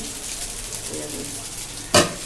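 Chow mein cooking in a pan, giving a steady close sizzle with soft scraping of a utensil and a single sharp clatter near the end.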